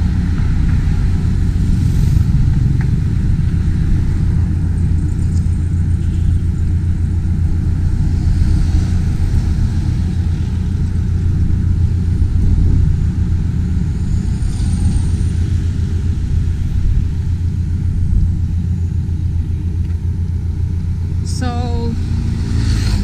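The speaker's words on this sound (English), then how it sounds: "There's the ocean jet passing through under the bridge." OceanJet fast ferry passing under the first Mactan bridge in Cebu, Philippines, a steady, moderately loud low engine drone mixed with traffic and waterside ambience, continuous throughout with no talk.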